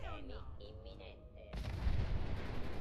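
A big explosion in Fallout 4 erupts suddenly after a stretch of sci-fi sweeps and tones, a heavy rumbling blast that stays loud and sustained to the end.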